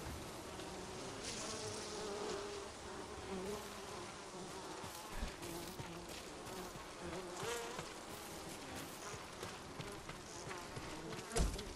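Steady, close buzzing of bees in Ghost of Tsushima, a video game, a continuous drone with fluctuating tones and a few soft thumps over a muted background.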